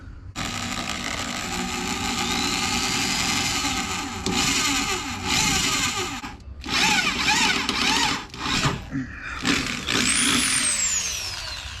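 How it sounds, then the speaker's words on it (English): A power drill grinds into the rusted body metal of a 2003 Chevrolet Silverado truck, a long steady whine that later breaks into shorter bursts with scraping and rattling, loud and close. "you're gonna have metal shavings flying around since you're drilling in"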